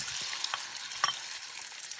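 Diced pork hits hot oil with Sichuan peppercorns in a wok, giving a steady, fairly quiet sizzle with a few small pops and light scraping.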